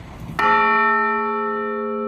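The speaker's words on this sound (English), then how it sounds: "So see this guy? This is the funeral bell." A single strike of a McShane Bell Foundry funeral bell, cast in Baltimore in 1931 and hung in a tower, rings out loud and close with a clear, sustained tone that slowly decays after a soft knock beforehand.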